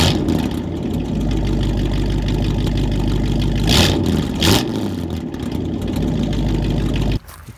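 A Ford pickup with straight-piped exhaust, 16-inch tips and stock exhaust manifolds rumbles at idle, then gets two sharp blips of the throttle before it settles and cuts off at the end.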